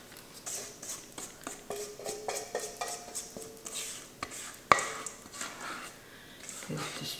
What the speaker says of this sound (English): add my apple mixture to the pan with the melted butter and get all that goodness out of there